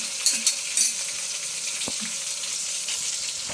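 Tomatoes cooking down in a pan give a soft, steady sizzle and bubble, with a few brief clinks near the start and a faint tap or knock partway through.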